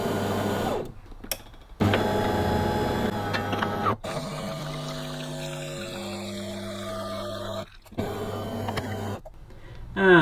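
A Delonghi Magnifica S coffee machine runs a rinse cycle, its pump buzzing and droning in steady humming stretches broken by brief clicks and pauses, with water gurgling through the spouts and no talking.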